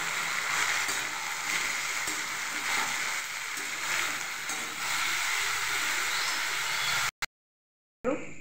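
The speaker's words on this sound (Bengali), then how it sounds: "এবার এর মধ্যে কুমড়ো দিয়ে দেবো, ভালো করে ভেজে নেব" Pumpkin pieces frying in a pan with fish and browned potatoes, a steady close sizzle and soft stirring for about seven seconds before a brief cut to silence.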